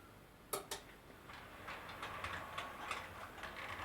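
Heljan Class 54 "Falcon" D0280 model locomotive running along model railway track with tight bogies, giving a faint, steady whirring rumble with light rhythmic clicks and a couple of sharper ticks near the start, no talking.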